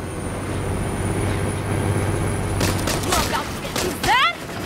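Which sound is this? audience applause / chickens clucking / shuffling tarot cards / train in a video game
train in a video game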